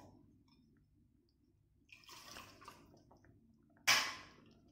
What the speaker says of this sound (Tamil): நான் இன்னும் கொஞ்சம் தண்ணி ஊற்றுறேன்.